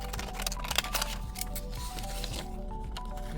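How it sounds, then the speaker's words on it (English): Scissors snipping through a paper plate while cutting out fish fins for a craft, giving a quick run of close crisp cuts and rustles over a steady low background hum. "I'm gonna put that to the side and cut out my two fins."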